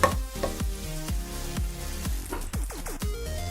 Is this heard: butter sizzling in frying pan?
yes